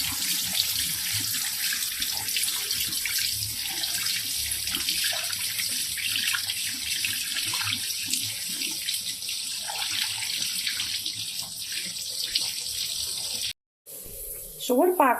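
Tap water runs steadily into a sink while pumpkin pieces are rinsed by hand for pumpkin barfi, a constant close hiss broken by a brief cutoff near the end, with light background clatter.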